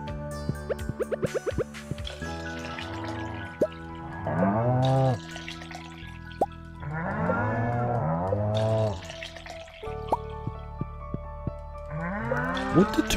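Cows in the farming game Stardew Valley letting out several drawn-out moos in sequence, clear and close over a steady game music backdrop with small clicking sounds.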